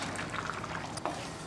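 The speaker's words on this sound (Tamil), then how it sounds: "இப்போ நம்ம அரைச்சி எடுத்து வச்சுருக்கிற தேங்காய் விழுது ஊற்றிக்கலாம்." Ground coconut paste is poured into a pot of simmering cauliflower kootu, giving soft bubbling and wet plopping, fairly quiet and continuous.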